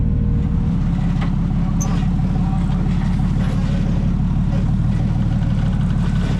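An off-road vehicle's engine drones loudly and steadily as it crawls over rocks in second gear at an off-road park in Texas.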